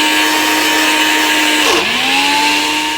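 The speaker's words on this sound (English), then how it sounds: "then it's time to blend." A blender whirs loudly and steadily while blending hummus made from chickpeas, its motor pitch dipping briefly midway before recovering and running on.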